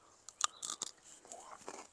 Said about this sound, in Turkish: Çocukken bunları böyle yeşil yeşil çatır çatır yerdik.